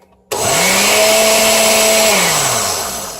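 A loud kitchen blender kicks on abruptly and whirs steadily at high speed, its motor pitch sagging slightly as it runs on alone.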